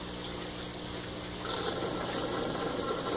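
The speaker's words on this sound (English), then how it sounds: "cut off the air, all you got is water flow" Water flowing through a dual-loop aquaponics system with the venturi air supply cut off, a steady rushing gurgle that swells louder and brighter about halfway through, heard alone without talking.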